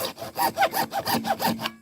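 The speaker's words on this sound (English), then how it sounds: "So we're just going to cut some little notches in here." Repeated back-and-forth strokes of a hand saw cutting small notches into the end of a homemade well-drilling bit, about seven even rasping strokes in quick rhythm, close and fairly loud, then stopping.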